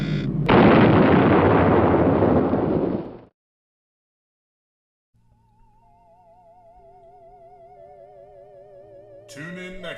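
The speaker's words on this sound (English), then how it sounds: "commencing atomic explosion." A massive atomic explosion sound effect, a loud roaring blast that rumbles for about three seconds, cuts to silence, then gives way to warbling electronic sci-fi tones rising near the end.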